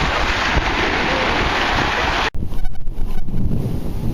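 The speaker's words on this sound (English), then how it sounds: "Waves. I don't like them." Ocean waves wash against the shore of a bay under a rush of wind buffeting the microphone, loud and steady, then briefly cut out before choppier surf and gusts return up close.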